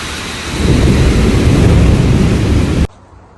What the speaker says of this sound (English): And as promised, here is the rain, the lightning. There's going to be thunder soon.